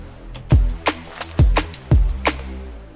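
A Razor synth sawtooth Reese bass with a reverb module plays several punchy notes in an uneven rhythm, each one decaying into a deep, washy reverb tail.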